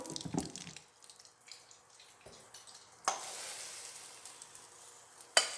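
Ground coconut mixture for coconut burfee poured into a pan with the stove switched off, giving a soft sizzling, dripping wash with two sharp clinks, quiet and without talk.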